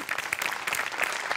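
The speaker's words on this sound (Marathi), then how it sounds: "जोरदार टाळ्या" Studio audience at a Marathi comedy show breaking into loud, dense applause, many hands clapping together in a sustained burst with no break.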